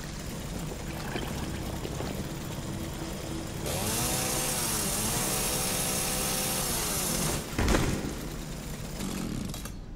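A chainsaw revving in Resident Evil 7, a loud sustained buzzing whine that rises and wavers in pitch over a rough, noisy backdrop, followed by a brief sharp impact.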